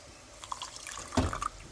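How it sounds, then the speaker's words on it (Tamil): A small splash of water, about a quarter cup, poured onto salt for Kerala Nendran banana chips, brief and close, with faint dribbles before the main pour. "தண்ணி 1/4 கப்பு ஊற்றினா போதுமா?"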